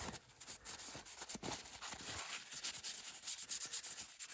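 Cloth rubbing and wiping across a carved wooden Santa figure to take off excess oil, a steady close scuffing with repeated soft strokes, no talking.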